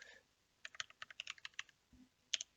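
Quick bursts of keystrokes on a computer keyboard while entering a short line of C# code, a rapid run of clicks, a pause, then two final sharp taps, close and fairly quiet.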